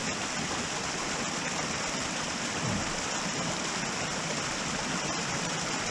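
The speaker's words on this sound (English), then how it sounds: "But I want y'all to see this little waterfall running in." A small waterfall pours into a stream at Wild Burro Falls, giving a steady, full rushing wash of water that stays even and close throughout, with no voices.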